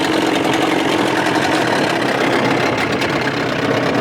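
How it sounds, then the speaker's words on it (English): Evinrude 30 hp outboard motor idling rough on a boat, a loud, close, steady engine drone with a rattling, knocking texture running continuously throughout. "Listen, the whole boat is rattling."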